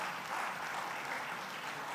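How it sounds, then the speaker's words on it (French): Audience applause at a national innovation award ceremony as a trophy is presented, a steady dense clapping from a large crowd filling the whole moment with no voices over it. "Sous vos applaudissements,"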